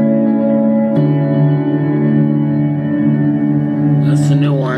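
Electric guitar through a new amplifier with a warm tone, steady sustained chords ringing clearly with reverb, one sharp strum near the start and a brighter flourish at the end.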